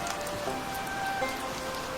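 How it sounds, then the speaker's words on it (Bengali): Steady rain falling, a dense even patter of drops on surfaces with no voices, some faint tonal sounds in the background. "বৃষ্টি তখনও পড়ে চলেছে।"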